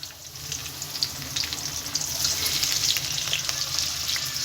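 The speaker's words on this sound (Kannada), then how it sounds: "ನೆಕ್ಸ್ಟ್ ಈಗ ಇದಕ್ಕೆ ಸಣ್ಣ ಕಚ್ಚಿರೋ ಈರುಳ್ಳಿ ಮತ್ತು ಟೊಮೊಟೊ ಹಾಕೊತಾ ಇದ್ದೀನಿ" Chopped onion and tomato hit hot oil with mustard seeds for a paneer gravy, giving a steady close sizzle with crackling pops that swells slightly louder as it goes, with no voices.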